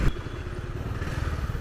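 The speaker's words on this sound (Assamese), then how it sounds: "মানে এইফালেদি বাইক পাৰ কৰে ন" A motorcycle goes by on a touring road, a close, mid-pitched engine putter with a clattering pulse over a short moment, no talking.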